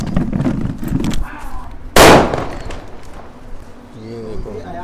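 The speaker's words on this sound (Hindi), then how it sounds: "आतिशबाजी का माकूल इंतजाम।" At a pigeon-flying tournament in Sherkot, Bijnor district, a single loud firecracker bang rings out sharply midway. Lively outdoor voices talk and call before and after it.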